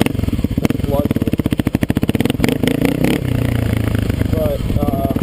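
A Kawasaki KLX250S dirt bike engine runs close by with a rapid pulsing thump and a few revs, while someone talks over the machine.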